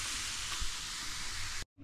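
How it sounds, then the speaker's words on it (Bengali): Grated carrot frying in ghee gives a steady, loud, close sizzle that hisses continuously before cutting off abruptly at the end. "আর এখন ঘি দিয়ে এটাকে একটু ভেজে নেব।"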